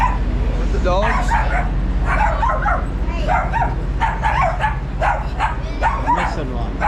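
Several dogs, three dachshunds and a Bernedoodle, yip, whimper and bark in a busy run of short bursts close by, with people talking over them throughout.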